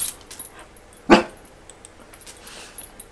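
A fluffy pet dog gives a single sharp bark in a quiet room, with faint small noises before and after.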